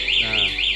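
Siren from a 9 Nine A1 motorcycle alarm fitted to a Yamaha Nmax, set off during a break-in attempt with a T-key. A loud, steady electronic tone sweeps up and down in a rapid repeating wail, heard alone.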